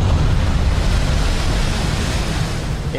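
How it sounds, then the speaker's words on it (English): Big surf waves breaking, heard as a loud, continuous roaring wash of low rumble and broad noise with no distinct individual breaks, played back from a video. "It feels and sounds like an avalanche when the waves break."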